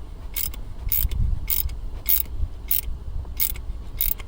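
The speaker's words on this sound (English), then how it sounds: "And this is going to be a 17 millimeter wrench." A 17 mm wrench ratchets on a Capri Tools dual head brake flare tool, giving a steady series of about seven crisp, evenly spaced clicks over a low mechanical background, close and clear with no talking.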